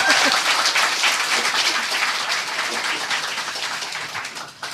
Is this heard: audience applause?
yes